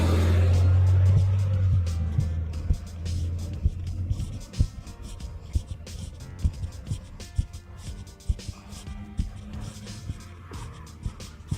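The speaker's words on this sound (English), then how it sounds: "that was the little bus dropping people off" A small bus rumbles past while dropping people off, its low engine drone loud at first and then fading, followed by scattered outdoor clatter and footsteps under occasional talk.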